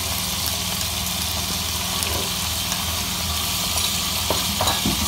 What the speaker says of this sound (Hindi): अभी हमने जिंजर गार्लिक का पेस्ट डालना है जो कि 2 टेबल स्पून है।